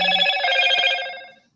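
A telephone rings nearby with a loud, bright electronic trill that holds steadily for over a second before fading out, with no voices over it.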